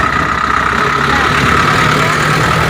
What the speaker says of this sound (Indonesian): Mobil-mobil dan motor-motor yang sedang berlalu lintas.